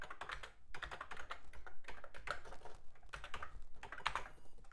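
Rapid, uneven keystrokes on an Atari computer keyboard as a command is typed, a dense run of close clicks and clacks with brief pauses, no voices.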